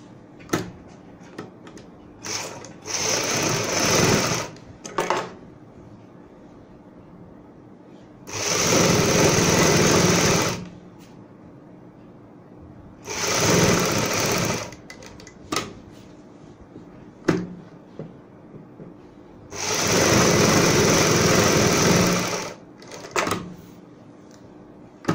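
A sewing machine stitches buckram onto the neck of a kameez, running in three long steady bursts of several seconds each, separated by quieter pauses with light handling noise.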